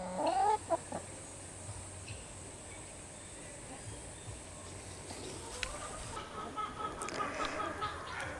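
A chicken gives a loud cluck at the start, followed by quieter scattered clucking and rustling that builds slightly toward the end.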